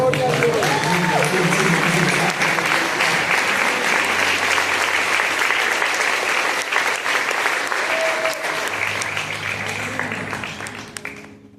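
A church congregation breaks into sustained, loud applause, with some voices and cheers mixed in beneath the clapping before it gradually fades near the end.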